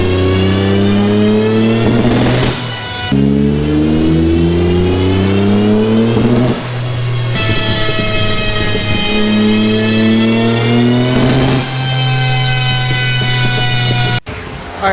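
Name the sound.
Nissan 300ZX engine revving during dyno pull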